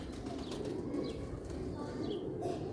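Sialkoti pigeons coo softly and steadily against a dense, noisy background, with a few faint chirps mixed in.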